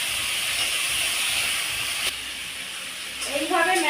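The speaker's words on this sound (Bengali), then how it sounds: "মশলাটা মেশানোর জন্য আমি অল্প একটু জল এর মধ্যে দিয়ে দিচ্ছি" A little water hits a hot pan of spice mix with salt and turmeric for a fish and potato curry. A continuous steamy hiss rises, with a brief crackling flare near the end.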